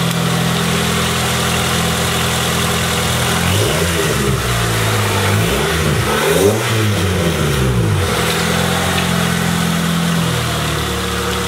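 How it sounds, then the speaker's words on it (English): A 1997 Honda Accord LX engine with a cold air intake idles steadily, then revs up and down in several surges before settling back to a loud, rumbling idle. "I'm gonna rev it and hear how it sounds."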